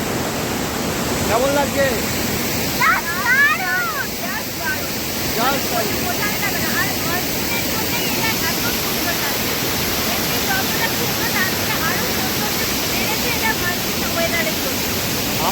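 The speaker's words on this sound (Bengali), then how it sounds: "এটা তোমরা দেখলেই বুঝতে পারছো যে কেমন তার আওয়াজ আর কতটা তার স্রোত, জলের কেমন আওয়াজ শুধু দেখো" Lodh waterfall in Jharkhand roars continuously in the monsoon, a loud, dense rush of falling water heard close by, with a person briefly speaking over it.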